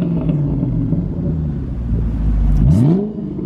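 A 2013 Ford Mustang Shelby GT500 with a stock exhaust, 662 horsepower and a six-speed manual, idles with a deep, loud rumble, then blips sharply into a rising rev before dropping back.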